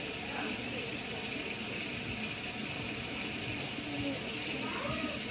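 Tap water runs steadily into a kitchen sink, rinsing buffalo sauce out of a food container, a continuous close splashing rush with faint voices underneath.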